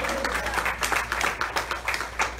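Church audience applauding, a short burst of many hands clapping with uneven pulsing bursts, fairly close and over a low steady hum.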